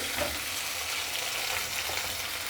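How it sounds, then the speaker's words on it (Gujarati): Tomato frying in a pan with a steady, soft sizzle that runs evenly throughout, fairly quiet and close, with no talking. "આપણે ટમેટું થોડું સોફ્ટ થાય ત્યાં સુધી એને સોતળી લઈએ"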